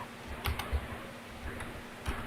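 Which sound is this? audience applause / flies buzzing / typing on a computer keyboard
typing on a computer keyboard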